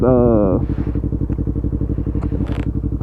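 A Yamaha MT-03 motorcycle fitted with a Power Commander 5 runs steadily after dyno tuning, its engine loud and close with an even, rapid pulsing throb, a brief higher whine at the start.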